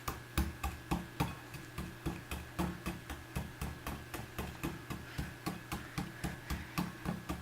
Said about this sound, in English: I have my tool here. I think I'm going to start off with the spear point, and I get a good grip on it, right? Okay, and I'm going to start chipping away.